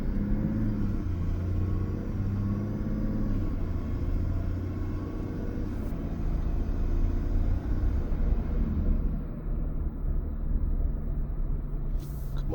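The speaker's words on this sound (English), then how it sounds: "truck is still on. Engine's still running." A 2025 Chevy truck's engine idles in a steady, low, close rumble that holds throughout with no talking.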